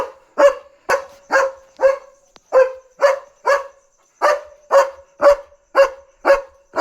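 A German Shepherd named Leo barks loudly and close, about a dozen deep, evenly spaced woofs in a steady rhythm with brief gaps between them.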